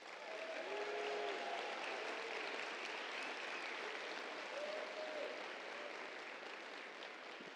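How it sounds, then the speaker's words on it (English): An audience at an evening speaker event fills the hall with sustained, even applause for the sponsors. Faint cheers and voices come through the dense clapping. "Let's give them a round of applause."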